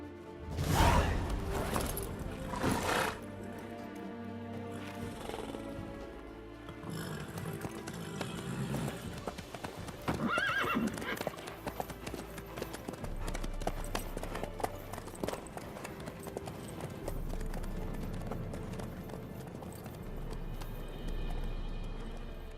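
A horse gallops in The Witcher 3 video game, steady rhythmic hoofbeats clip-clopping over a game soundtrack with occasional whooshes, heard throughout at moderate loudness.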